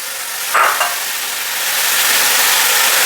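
Green chilies drop into a hot pan of crab masala roast, a brief stirring clatter near the start, then a steady close sizzle that swells and holds without speech.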